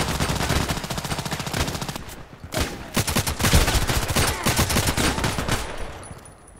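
Rapid automatic gunfire in the online shooter Contract Wars on the Terminal 2 map, dense continuous bursts of shots filling the clip with a brief lull, loud and alone.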